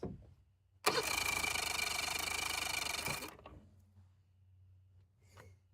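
A Mercury 70 HP outboard motor with starting problems on a StarCraft boat cranks loudly and steadily for about two and a half seconds without catching, then falls quiet apart from faint background noise.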